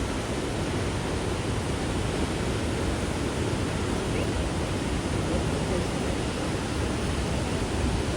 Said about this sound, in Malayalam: വെള്ളച്ചാട്ടം താഴേക്ക് പതിക്കുന്ന ആ ഒരു കാഴ്ച ഇവിടെ നിന്ന് കാണാം.